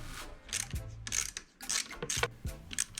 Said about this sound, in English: I had to undo the 4 bolts on top of the handlebars, on top of the clamp. Did that using a 5mm HEX BIT.